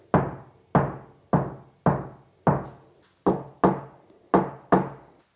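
Nine knuckle knocks on an untreated, bare door of a modern 4WD ute in a fairly steady rhythm, each ringing hollowly and briefly up close, with no voices.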